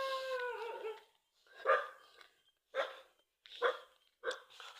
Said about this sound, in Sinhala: බල්ලෝ බොරුනවා එහෙන්.